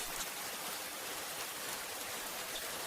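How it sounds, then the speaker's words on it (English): Gentle rain falls steadily outside a hut at night, a soft, even hiss of drops on surfaces, faint and unbroken with no voices. "The rain returns."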